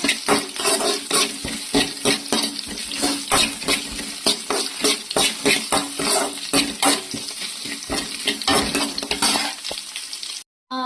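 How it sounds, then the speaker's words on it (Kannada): Onions sautéed and stirred in a pan, producing dense rapid scraping and clattering strokes over a continuous close sizzle, loud and busy throughout before a brief drop to near silence at the very end. "ಈರುಳ್ಳಿ ಬಾಡಿಸ್ಕೊಳ್ತಾ ಇದ್ದೀನಿ"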